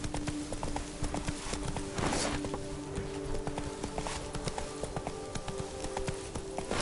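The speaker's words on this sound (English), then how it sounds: "Run, Roach." Hooves of a horse galloping in The Witcher 3 video game, a steady fast clip-clop running through the whole stretch over a constant background hum, with a brief snort or whinny-like burst near the start.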